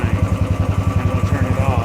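A Royal Enfield 500 single-cylinder motorcycle idling up close, a steady, loud, even thumping rhythm of engine pulses throughout.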